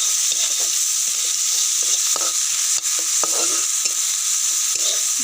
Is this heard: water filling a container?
no